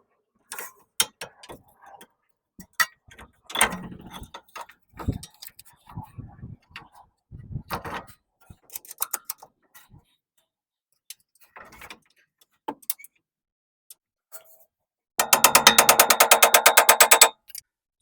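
A ratchet tightening strut nuts on a Toyota FJ, Tacoma or 4Runner, scattered clicks and clanks of hardware, then a burst of rapid, evenly spaced ratcheting near the end, close and clear.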